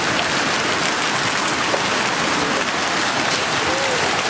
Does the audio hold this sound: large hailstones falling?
yes